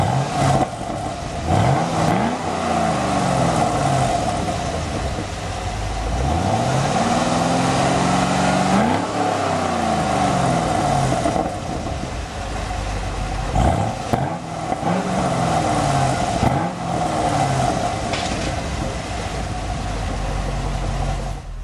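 The V8 engine of a 2011 Chevrolet Camaro SS revs up repeatedly, climbing in pitch and falling back to a rumbling idle several times, close and loud with no talking.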